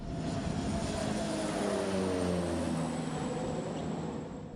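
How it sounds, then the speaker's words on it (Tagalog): A BFAR airplane flies overhead near Hoya Island, a loud steady engine drone with slowly shifting pitch that fills the whole stretch and carries no talk. "Minonitor naman ng eroplano ng BFAR ang sitwasyon mula sa ere."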